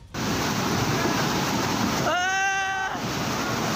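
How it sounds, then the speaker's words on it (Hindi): Fast-flowing floodwater at Indapur in Pune carries a vehicle along, its strong rushing waves a steady loud roar through the whole stretch, with a brief tonal whine partway through. "एक गाड़ी पानी की तेज लहरों के साथ बहती हुई नजर आई"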